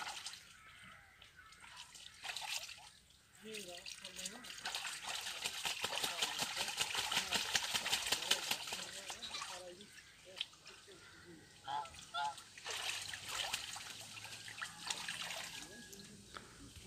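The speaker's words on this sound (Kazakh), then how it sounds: "таза суға жуынып жатыр." Geese splash and bathe in clean, cool water in a newly built pool, with continuous dripping and sloshing and occasional louder splashes.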